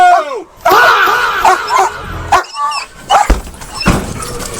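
Police dog barking and yelping loudly and close during a foot chase after a suspect, several sharp barks in uneven bursts mixed with shouting voices.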